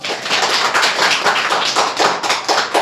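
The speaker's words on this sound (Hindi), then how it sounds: "जोरदार तालियां बच्चों" Children in a school classroom clap loudly and rapidly together in a dense burst of applause lasting a few seconds, close and alone without talk.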